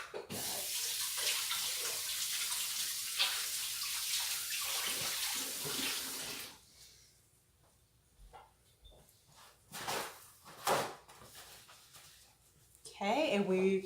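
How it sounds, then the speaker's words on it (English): Running tap water splashes steadily as hands are washed in a kitchen sink, loud and close for about six seconds, then stops, followed by scattered clunks and small handling noises. "let me wash my hands"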